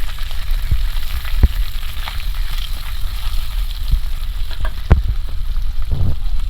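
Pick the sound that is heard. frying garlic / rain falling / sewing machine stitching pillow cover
frying garlic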